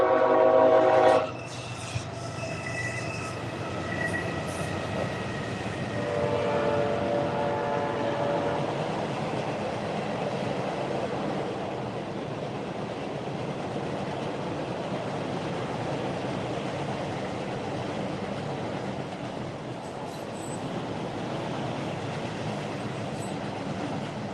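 A train passes near a fishing spot, opening with a short blast of its horn and then a long, steady rumble of rolling wagons and wheels that holds for over twenty seconds, with no talking.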